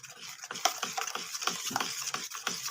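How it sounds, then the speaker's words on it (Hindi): A spoon mixes packet cream into fruit custard in a bowl, making quick rhythmic wet clinks and scrapes that repeat several times a second, close and fairly soft. "अब आपने इसको चम्मच से अच्छे तरीके से मिक्स कर देना है इस तरीके से"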